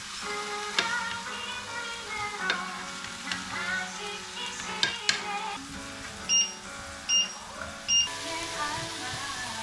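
Salmon fries in a hot pan, a faint steady sizzle with occasional clatter of utensils, followed by three short electronic beeps near the end.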